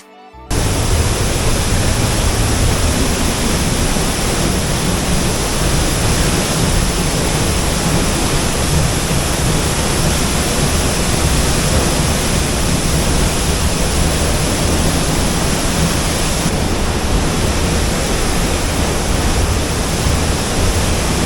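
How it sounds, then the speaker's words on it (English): A roaring waterfall in Norway fills the whole stretch with a loud, steady, unbroken rush of water, close and overwhelming. "I've deliberately not muted the sound of the rushing water as it was truly deafening."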